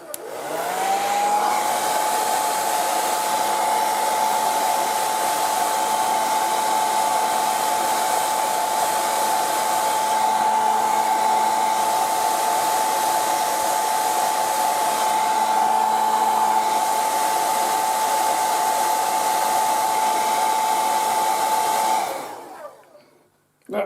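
A hot air blower runs continuously, heating capacitors on a Bose Wave Radio AWR1B4 circuit board: a loud, steady whooshing roar with a sustained whine, close by, lasting about twenty seconds before switching off abruptly.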